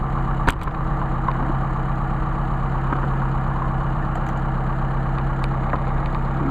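An engine on Solex 44PHH carburetors idles steadily and loudly up close, a continuous low rumble with a single brief click near the start.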